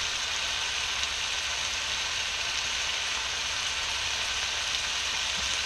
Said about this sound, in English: It's literally chicken breast in a pan.